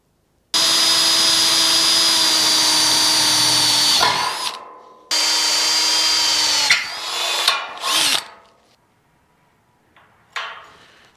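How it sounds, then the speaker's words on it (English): A power drill boring holes for a bolt in a light fitting, whining loudly in two long sustained runs separated by a pause, then shorter bursts and a final brief spin, with no talk. "now I need to drill 2 holes for the bolt"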